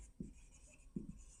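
A pen writes on paper in two short, faint scratching strokes separated by a pause, with no talk.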